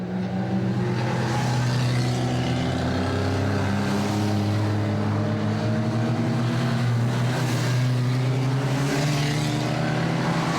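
Ministox stock cars race at a Warton Stock Car Club meeting, their engines droning loud and continuous with layered tones rising and falling as the pack circles close by, with no break throughout.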